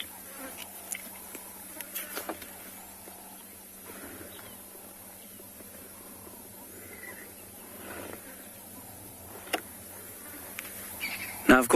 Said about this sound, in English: all I can hear is the sound of the flies buzzing around my head